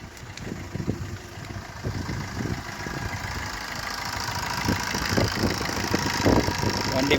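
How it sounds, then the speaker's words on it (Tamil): A Maruti Swift car engine turns over and settles into a steady idle, a mid-pitched rumble that continues at close range with a slight rhythmic knock under the hum. "வண்டி ஸ்டார்ட் பண்ணி பார்க்கலாங்க."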